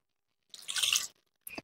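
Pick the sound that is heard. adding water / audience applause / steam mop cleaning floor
adding water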